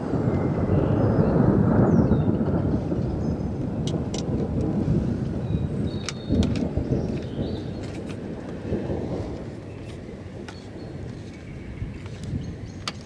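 Thunder during a thunderstorm over Greater Manchester, a long, deep rolling rumble that swells loud early and slowly fades over about thirteen seconds, with faint wind noise and scattered small clicks.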